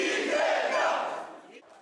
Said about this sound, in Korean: 환호가 터져나왔습니다.